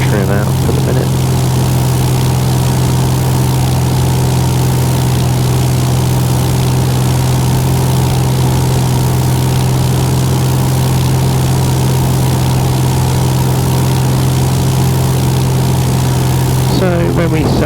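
Light aircraft propeller engine set to about 2300 RPM for cruise in a G1000-equipped cockpit, a steady loud drone with a strong low hum running unbroken throughout.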